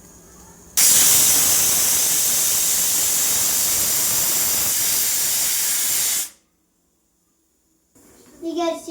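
Pressure cooker whistle hissing loudly as steam vents while green chickpeas cook, a steady broad rush lasting about five seconds before cutting off abruptly, followed by quiet.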